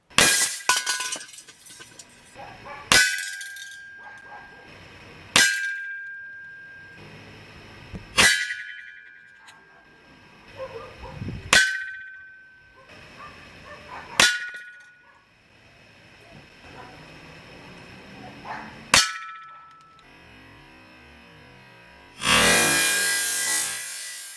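Crosman 3622 PCP air rifle pellets striking a metal can outdoors, about eight sharp ringing impacts spaced a few seconds apart, each with a short metallic decay, followed by a burst of noise at the end.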